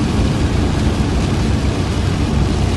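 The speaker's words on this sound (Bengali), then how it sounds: "দেখো কেমন বৃষ্টি হচ্ছে" Heavy rain pours down in a steady, dense roar of broadband hiss with no pauses, loud and enveloping throughout.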